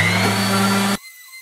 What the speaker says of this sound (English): Okay, I've been doing some sanding.